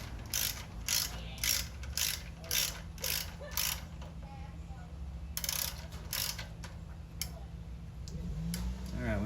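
A ratchet clicks in quick repeated bursts while tightening a sway bar bushing bracket, close and steady, with pauses between strokes and a voice talking.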